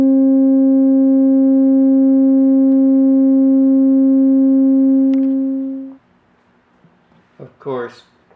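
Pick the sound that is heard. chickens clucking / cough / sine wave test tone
sine wave test tone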